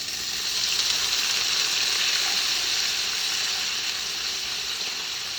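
Braised pork frying in a non-stick pan with avocado oil, a loud, dense, steady hiss of sizzling fat that fills the whole stretch without letting up, close by and with nobody talking.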